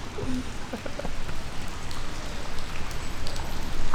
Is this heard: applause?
no